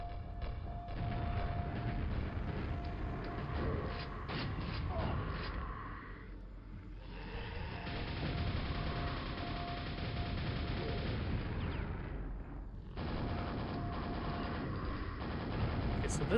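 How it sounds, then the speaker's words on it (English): Grenade launcher explosions in Quake, a steady barrage of spammed grenade blasts rumbling and booming heavily throughout, with only short dips in the dense low-end pounding. "I can also spam grenades."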